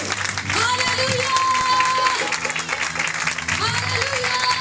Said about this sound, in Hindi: जोरदार तालियां मेरे यीशु के लहू के लिए।